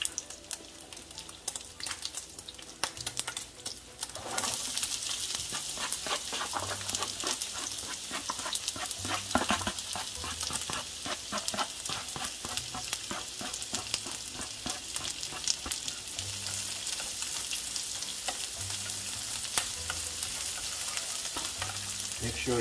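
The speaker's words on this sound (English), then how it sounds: "Now you can see that it's sizzling" Onions and beef for gyudon sizzling loudly in a frying pan, a steady close hiss and crackle that swells sharply after a few seconds and keeps going without a break, with occasional stirring scrapes.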